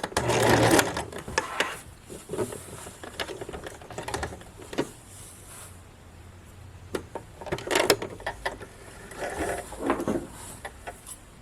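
Sewing machine back-stitching a modesty panel for a formal dress, running in short close bursts with brief pauses between runs of stitching.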